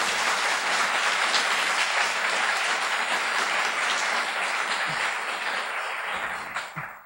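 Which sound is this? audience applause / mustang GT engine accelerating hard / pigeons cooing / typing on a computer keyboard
audience applause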